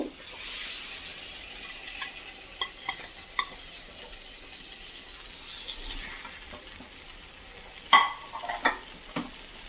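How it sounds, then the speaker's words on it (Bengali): Onion greens and eggplant hit hot spiced oil in a pan, giving a soft steady sizzle with a few louder clatters and stirring scrapes, with no talking. "এবারে এই পেঁয়াজকলি আর বেগুনটা দিয়ে দেব।"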